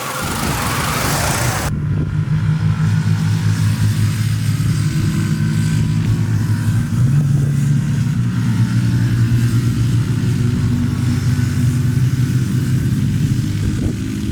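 A fuel-injected Yamaha LC135 135cc auto-clutch moped on a media test ride drones steadily as it runs along, a continuous buzzing engine note held at fairly even speed after a brief burst of noise at the start.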